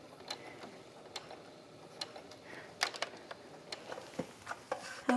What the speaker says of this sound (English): I'm gonna back stitch at each end.